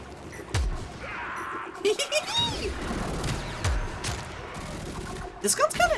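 Warframe gun whose bullets arc and then explode, firing in a few sharp bursts with popping blasts and whooshing sweeps amid game effects and music, loudest near the end, while someone talks throughout.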